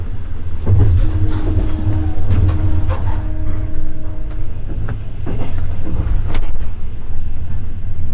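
Interior of a moving hard sleeper train on a long overnight journey, with a steady low rumble of the carriage, occasional clicks and clatter, and faint voices in the background throughout.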